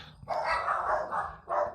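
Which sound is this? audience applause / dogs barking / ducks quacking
dogs barking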